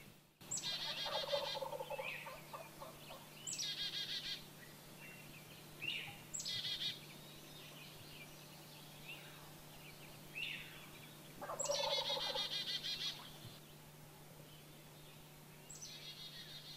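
Wild turkey gobbles ring out repeatedly from across a creek in a morning woodland, several rattling bursts spaced a few seconds apart at moderate distance, with faint chirping birds and a steady low hum beneath.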